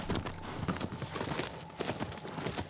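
Horse hooves galloping in the Shadow of the Colossus video game, a steady rapid clip-clop rhythm at close range running through the whole stretch over a low rumbling backdrop.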